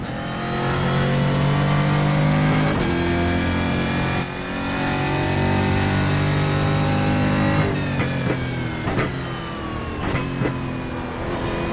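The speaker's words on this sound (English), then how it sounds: "You can hear the barbling, the popping back through the exhaust as you snap the throttle shut" A Brazilian Stock Car racing engine in a sim racing game roars loudly and continuously, revving up and down through downshifts, with sharp crackling pops from the exhaust as the throttle snaps shut toward the end.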